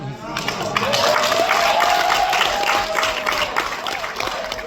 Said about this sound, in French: on doit applaudir qu'on a envie d'applaudir